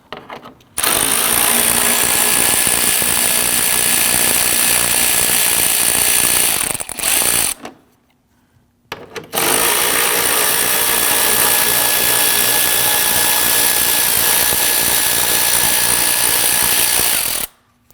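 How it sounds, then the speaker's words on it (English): A power tool on a 2010-2019 Ford Taurus, working 10mm bolts during radiator replacement, runs in two long loud continuous bursts with a rapid hammering buzz, separated by a brief pause. "we want to go ahead and remove the series of 10mm bolts."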